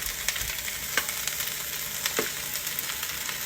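Cooked rice fries in a hot wok alongside chunks of egg for fried rice, with a steady, dense sizzle and occasional soft stirring scrapes close by, without speech.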